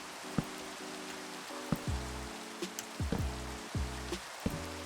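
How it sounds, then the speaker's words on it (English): Steady rain falling in the video game Minecraft, a soft continuous patter with separate tonal game sounds chiming in at intervals. "The sound of the rain is kind of nice right now."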